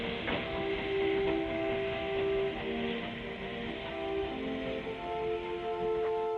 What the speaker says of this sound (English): every minute a train was departing